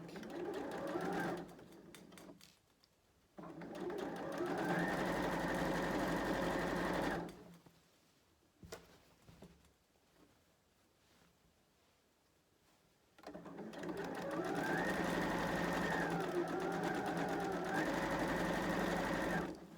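A sewing machine stitches pants in two long, steady runs of rapid mechanical whirring, stopping in between for a quiet pause with small handling noises.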